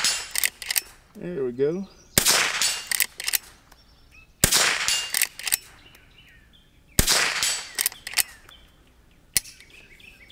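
A Henry H001 .22 LR lever-action rifle fires four sharp, well-spaced shots outdoors at a distance target, each crack followed by a short ringing tail, with someone speaking briefly and faint bird chirps between shots.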